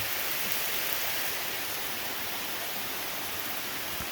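Rain falls through the woods along a hiking trail, a dense, steady hiss of drops on leaves and ground, even and unbroken throughout with no voices.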